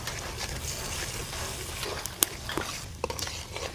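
Spice paste of onion, garlic, ginger, chilli, turmeric, coriander and cumin frying in soybean oil in a pan for a river fish curry, a steady close sizzle with stirring scrapes and a sharp utensil clack near the middle.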